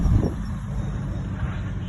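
A Triumph Stag, a classic British V8 car, driving along a road, giving a steady low engine drone and road rumble that continues evenly throughout.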